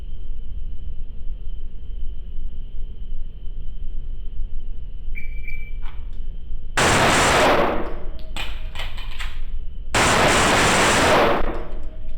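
An STI Staccato P pistol fired at an outdoor range: quiet ambience, a faint click, then a sharp run of rapid close shots, a short pause and a second burst of quick shots.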